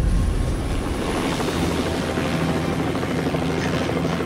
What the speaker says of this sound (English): totally the surgeon dude getting in the helicopter and leaving